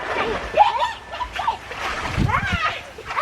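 Kids splash and play in a backyard pool, with water slaps and excited voices and shrieks mixing together at close range, and people talking throughout.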